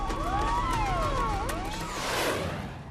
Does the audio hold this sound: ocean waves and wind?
no